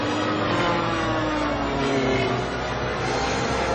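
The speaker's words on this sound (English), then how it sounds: "why is it when the pots flew up, they made airplane sound effects?" An airplane sound effect in a Home Alone movie scene, a dense continuous engine roar with a slowly shifting drone, loud and steady throughout with no talk.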